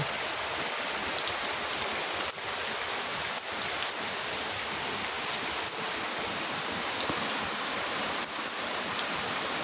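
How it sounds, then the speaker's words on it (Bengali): Heavy rain pours down steadily on a village home, a dense, even hiss of drops drumming on surfaces with no voices and no gaps. "প্রচুর বৃষ্টি হইতেছে"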